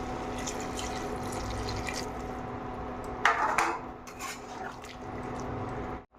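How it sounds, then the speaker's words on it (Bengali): Hot water is poured into a pot of chicken curry simmering with spinach, giving a brief splashing gush amid low kitchen hiss and faint drips. "এবার গরম জল দিয়ে দেবো"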